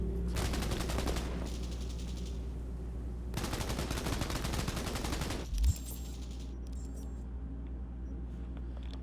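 Rapid bursts of automatic gunfire from Cyberpunk 2077 rattle in two long stretches over a steady low engine-like rumble, with a short thump near the middle and a quieter tail.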